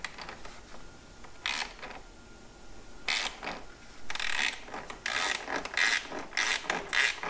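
A gear wrench works a bolt on a John Deere compact tractor's air filter bracket, giving short bursts of rapid ratcheting clicks separated by pauses, close and fairly loud.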